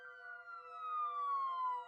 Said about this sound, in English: we heard the police sirens approaching in the distance.